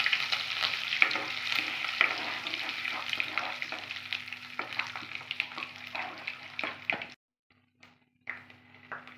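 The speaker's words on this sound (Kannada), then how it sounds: "ಉದ್ದಿನಬೇಳೆ, ಶೇಂಗಾ ಬೀಜ, ಒಣಮೆಣಸಿನ್ಕಾಯಿ, ಕರಿಬೇವನ್ನು ಹಾಕ್ಕೊಳ್ತಾ ಇದ್ದೀನಿ." Urad dal, peanuts, dry red chillies and curry leaves sizzle steadily in hot oil with stirring clicks, then the frying abruptly cuts to near silence before brief crackles return.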